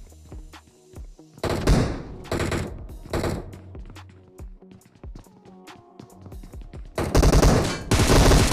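Rapid bursts of automatic gunfire from a solo battle royale shooter match ring out in several loud, close volleys separated by short pauses, with thuds and impacts between them.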